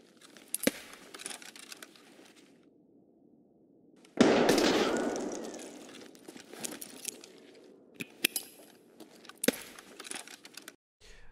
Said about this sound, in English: And your guy chucks the nades lower than he used to.